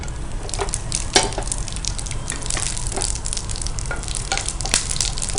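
Whole garam masala sizzles and crackles in hot oil in a pan, a steady close frying hiss dotted with small pops and stirring clicks, with no voices.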